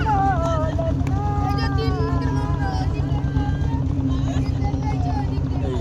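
A river boat near the Bangladesh border hums with a steady low engine drone under continuous wind, while people talk and sing over it.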